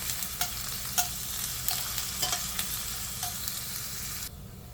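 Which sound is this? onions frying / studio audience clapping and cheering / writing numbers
onions frying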